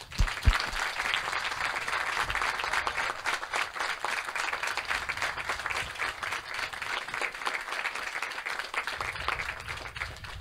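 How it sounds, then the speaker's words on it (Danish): Audience applause at an amateur theatre event around the Dodekalitten, a dense, steady wash of many hands clapping that carries evenly for about ten seconds with no voices over it. "Skulle vi ikke sige tak til dem og give dem et klap?"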